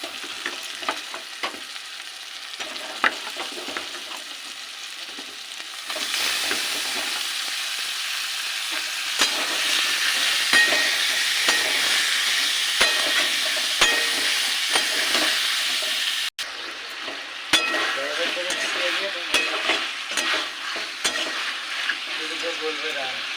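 Chicken pieces for chicken kosha sizzle loudly in a hot pan, a steady broad frying hiss that swells after being added, with occasional stirring scrapes and clicks and a brief pause near the end.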